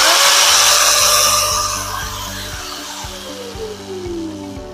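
A Dekton DK-AG900R angle grinder whines loudly at full speed, then its pitch slowly falls as the motor winds down, with no talk over it.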